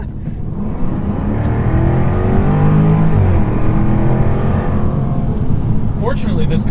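A 2023 Jaguar F-Type R Coupe engine pulling hard while driving, a loud rising engine note with sweeping harmonics that climbs and shifts through the revs, steady and close, ending with a brief clatter.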